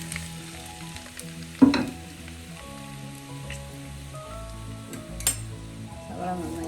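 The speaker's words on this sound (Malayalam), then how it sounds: "നമുക്ക് ഈ സവാള ഒന്ന് വഴറ്റിയെടുക്കാം." Sliced onions sautéing in oil in a pan for kadai chicken, a steady close sizzle with a couple of sharper stirring clatters and faint background hum throughout.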